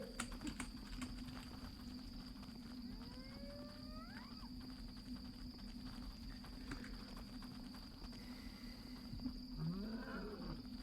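Lions in the video game Eternal Enemies roar in the distance, faint calls rising against a steady background hum with scattered clicks, and no one speaks.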